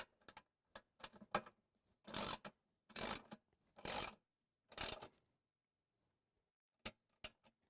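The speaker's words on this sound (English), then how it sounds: "next, we're going to tighten the center bolt" A wrench tightens the centre bolt on the swivel of an XDX hose reel, making several light ratcheting clicks followed by four longer grinding turns and then a few more clicks, close up and in otherwise quiet surroundings.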